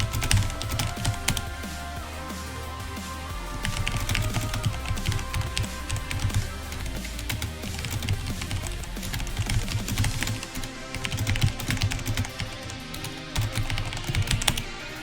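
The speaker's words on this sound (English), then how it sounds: "I'm just typing something real quick." Rapid, continuous typing on a computer keyboard during a game development livestream, dense overlapping key clicks close to the microphone with no talking.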